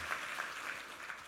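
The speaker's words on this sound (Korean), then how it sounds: "감사의 박수 올려드리겠습니다." Congregation applauding a church vocal ensemble during a New Year's Eve worship service: soft, brief clapping with a few distinct claps, faint and distant.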